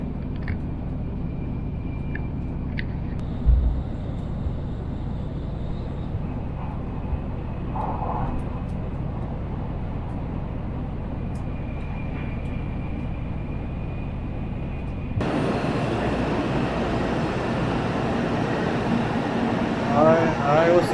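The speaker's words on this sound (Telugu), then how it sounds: "ఇప్పుడు మేము ఎక్కిన బుల్లెట్ ట్రైన్ అయితే 263 km/h మ్యాక్సిమం స్పీడ్ హిట్ అయింది" Inside a Japanese bullet train running at speed, a steady muffled rumble and airy hiss fill the cabin, growing louder and brighter near the end, with a few faint clicks and no talking.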